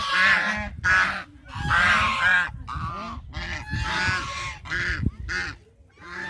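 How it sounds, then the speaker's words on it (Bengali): A flock of geese honking loudly and repeatedly in an outdoor rural setting, overlapping calls in steady bursts with brief gaps, close by and with no talk. "আপনারা রাজহাঁসের ডাক শুনতেছেন, কত সুন্দর।"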